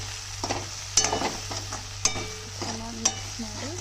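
A spoon stirs a turmeric-spiced mixture frying in a pan, with soft scraping strokes and a few sharper clinks against the pan about once a second over a low steady sizzle, close by with no talking.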